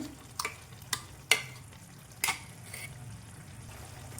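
Ground paste being added and stirred into a simmering ash gourd buttermilk curry, with a few sharp spoon scrapes against the pot over a soft bubbling background.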